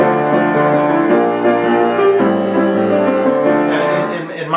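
A piano plays a theme with the sustain pedal held, so loud chords and melody ring together in a continuous, blurred wash, with no voices.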